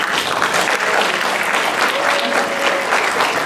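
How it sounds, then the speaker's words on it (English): Steady, loud applause from an audience at a youth convention, continuous clapping that fills the whole short stretch, with a faint voice briefly audible underneath. "round of applause again"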